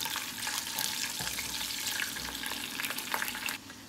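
Cumin seeds and whole red chillies fry in hot oil for an Aloo gobi dish, giving a steady, dense sizzle with crackling pops throughout and a small drop near the end; no one speaks.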